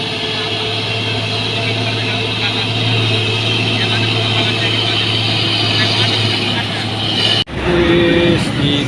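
A heavy Fuso trailer truck hauling palm oil roars in a constant, loud drone for several seconds, then the noise cuts off abruptly and shifts.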